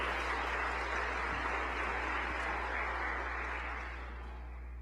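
A church congregation applauds during a Sunday evening Mass, a sustained wash of many clapping hands that thins out and fades toward the end.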